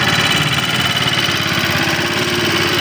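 A Choi Nori car's engine idling steadily, loud and close, with a low rhythmic knocking pulse and vibration running throughout, no voices.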